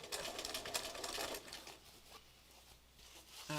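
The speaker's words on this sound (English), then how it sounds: "A couple more lines of stitching and we're going to call it completely done here." Sewing machine stitching with mylar sliver thread, a fast rattling buzz of needle strokes that runs loudly for about a second and a half, then slows into quieter intermittent clicks before restarting.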